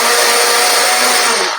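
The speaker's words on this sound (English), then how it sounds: "I'm gonna put it in the blender" A Ninja blender whirs loud and close while blending sauce, a dense steady motor whine that holds for over a second and then begins to wind down, with no talking.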